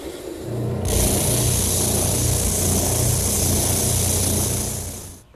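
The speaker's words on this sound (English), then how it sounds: "I'll rough out for those at the bandsaw" A bandsaw roughs out round tenons on a wooden piece: the motor spins up, then a loud, steady whining cut runs for several seconds before tapering off at the end.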